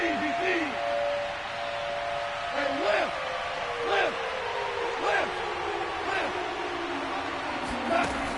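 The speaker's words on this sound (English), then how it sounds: "That just means this crowd's going to get even louder." Stadium crowd noise from a simulated football game, a steady broad roar with cheers swelling repeatedly, heard beneath continuous play-by-play commentary.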